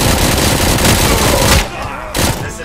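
Rapid gunfire in the video game Robocop: Rogue City, a loud, close burst of automatic shots that cuts off abruptly, followed by a quieter stretch and a brief final flare of noise.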